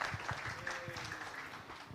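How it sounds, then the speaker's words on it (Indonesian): Audience applause at an Indonesian political discussion event, a short, fairly soft patter of clapping from a room crowd, with a faint voice briefly audible underneath. "Mungkin kita bisa tepuk tangan dulu dong Bro Dansis untuk narasumber kita yang keren"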